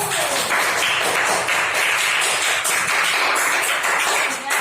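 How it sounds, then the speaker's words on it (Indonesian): Classroom applause for a group of students after their presentation, loud brisk clapping from many hands filling the room, sustained with a slight dip at the close. "Tepuk tangan untuk kelompok satu."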